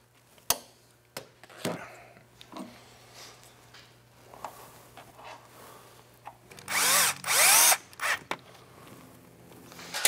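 A pneumatic impact gun snugs down bolts on a Ski-Doo E-TEC snowmobile motor, firing in short close bursts with a longer rattling run near the end, separated by quiet pauses.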